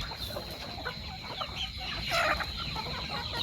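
Free-range kampung chickens, some two to five months old, cluck in short, scattered calls at low volume, a faint rustle of the farm around them.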